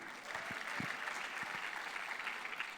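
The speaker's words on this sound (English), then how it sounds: "A round of applause for our MC." Sustained applause from an audience at a health technology summit general assembly, a dense steady wash of clapping from many hands lasting the whole stretch, with a faint low murmur beneath.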